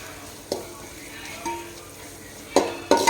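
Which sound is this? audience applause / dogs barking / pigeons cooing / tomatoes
tomatoes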